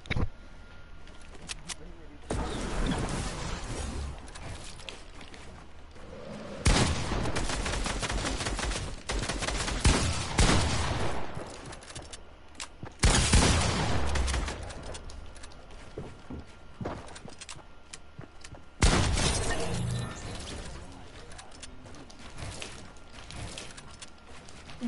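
Rapid gunfire bursts in a video game fired in repeated spammed volleys, loud bursts separated by quieter gaps, with a person talking over parts of it.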